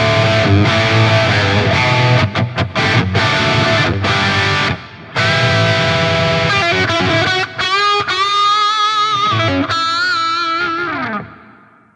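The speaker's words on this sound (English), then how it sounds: "so you can really hear the reverb and get a feel for what it's doing" An electric guitar through a Fractal Axe-FX II plays with heavy distortion and washes of reverb, loud and sustained, with the final notes ringing out and fading into a long tail.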